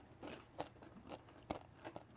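Crisp bites into thin Swedish pepparkakor ginger cookies, a few sharp crunches spaced irregularly, close and fairly quiet, with no talk over them.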